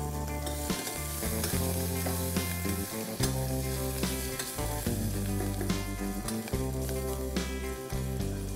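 Ginger paste sizzling in hot oil alongside dry chillies, curry leaves and asafoetida, a continuous close frying hiss broken by stirring scrapes and clinks.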